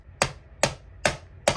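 A hammer strikes a phone screen protector four times, each sharp, close, bright crack evenly spaced about a second apart and heard alone in quiet.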